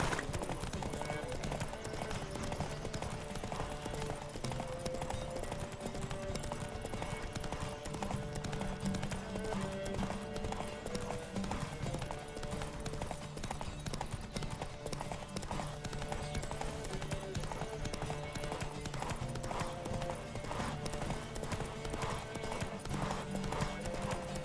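Horses gallop in a race in The Witcher 3 with rapid, continuous hoofbeats over a steady game music bed, the clip-clop dense and prominent from start to finish.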